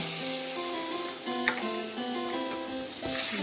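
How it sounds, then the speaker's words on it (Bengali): Tamarind juice hits green chilli pickle cooking in a pan, with a steady close sizzle and frying hiss, a sharp splash near the middle and a louder surge at the end, under a background tonal hum. "তারপর হাফ কাপ দিয়ে দিচ্ছি তেঁতুলের রসটা"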